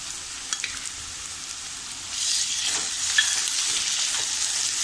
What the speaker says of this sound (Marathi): त्याचा आलं लसणाचा कच्चेपणा जाईपर्यंत छान अशी परतून घ्यायची आहे